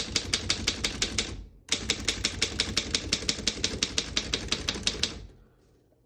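Keys strike rapidly and evenly on a 1927 Underwood No.5 desktop typewriter, a crisp clacking rhythm with a brief pause midway before the typing resumes and stops.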